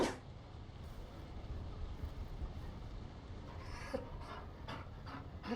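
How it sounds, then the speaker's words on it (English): A Mabari war dog pants in the video game Dragon Age: Inquisition, a soft steady breathy panting at close range that runs throughout, with a few brief sharper sounds near the end. "You found a dog."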